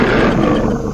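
A deep, bass-heavy human voice mimics a lion's roar in one loud, rough, sustained burst.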